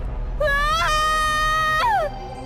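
A woman screams in one loud, sustained, high-pitched cry that rises, holds and then falls away, close and alone.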